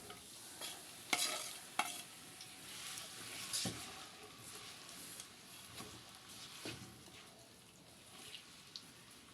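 Finely chopped onions, a 250 g batch, hit hot oil for a wedding-style beef korma and are stirred, giving a soft steady sizzle broken by a few sharp spoon scrapes against the pot.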